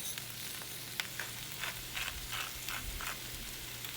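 Vegetables fry in olive oil in a pan with a steady, close crackling sizzle and soft stirring ticks, with no talk over it.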